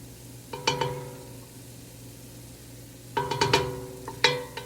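Softened vegetables and garlic cook in a pot for tomato soup, a soft steady sizzle punctuated by a few bright metallic clinks of a spoon stirring against the pot.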